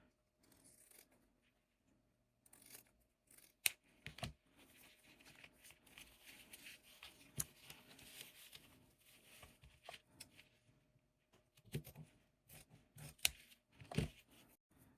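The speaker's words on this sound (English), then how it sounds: "Let me cut this off right about here." Scissors snip through ribbon on a pull-tie bow made for a tumbler wrap, a few quiet, crisp cuts among soft rustling and handling noises in a hushed room.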